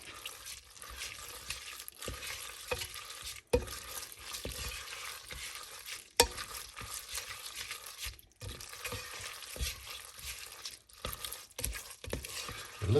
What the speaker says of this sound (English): let's stir it up and